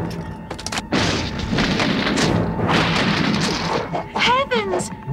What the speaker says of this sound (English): They're firing at us! And worse yet, they're hitting us!